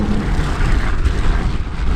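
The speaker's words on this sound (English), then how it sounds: "It's fairly active local flights, really short haul things coming through." A short-haul local passenger plane passes near an airport runway, making a loud, steady, broadband engine roar that fills the whole moment with no break.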